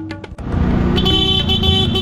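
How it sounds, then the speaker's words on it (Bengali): A motorcycle horn on a street honks a few times in quick short toots, then sounds in one long sustained blast, loud and close. "ও কিন্তু আমি হর্ন দিচ্ছি"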